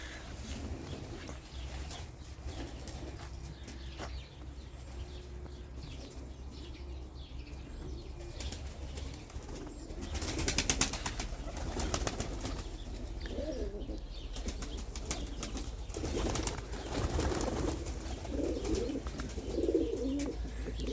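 Young Çorum naked-neck (çıplak) pigeons outdoors, with steady soft cooing and occasional wing flapping over continuous background noise, growing slightly louder midway.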